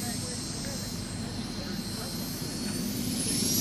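A model jet aircraft's turbine engine roars during takeoff at an all-American jet rally in Hamburg, Pennsylvania, a loud, steady high-pitched whine and rushing hiss that holds continuously throughout.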